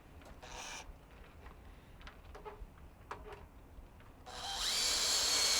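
Power drill driving a 1 5/8 inch screw into wood: a few faint clicks and taps, then a loud whirring burst that rises in pitch and holds steady for the last second or so.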